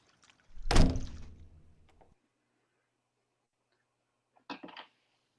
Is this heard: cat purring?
no